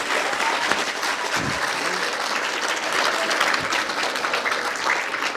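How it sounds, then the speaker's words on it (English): An audience at a history presentation on the 1798 battle in Belize gives a sustained round of applause, a dense, even roar of many hands clapping that fills the room throughout. "Please give them a round of applause."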